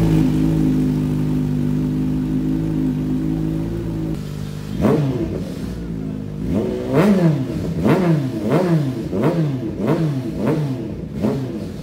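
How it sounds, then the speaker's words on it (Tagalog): A Kawasaki ZH2 motorcycle with a fully unrestricted dual exhaust idles with a deep, steady rumble, then revs repeatedly in a series of sharp, rising-and-falling throttle blips. It sounds loud and close, and no one speaks. "Gusto nyo bang malaman ang tunog ng isang Kawasaki ZH2 na naka-unrestrict ang lahat sa exhaust"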